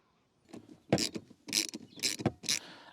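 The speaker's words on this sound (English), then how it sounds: "To undo those bolts, we're going to use a 13mm socket, a ratchet of course" A ratchet with a 13mm socket and extension bar undoes bolts on a Ford Focus Mk2, clicking in several quick bursts with short pauses between, close up and crisp, no voices.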